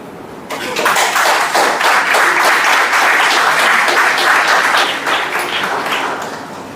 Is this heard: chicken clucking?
no